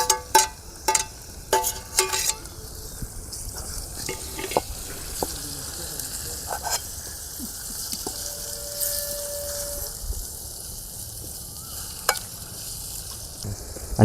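Chopped tomatoes sizzling in hot oil in a pan for corn chevdo in a Gujarati village kitchen, steady frying hiss with clattering spoon strokes stirring them, close and fairly loud, no talking.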